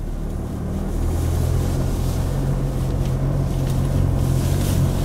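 A 2016 Chevrolet Colorado pickup drives off-road in four-wheel high across a slight hillside, giving a steady, loud engine drone and low rumble with wind-like wash on top and no voices.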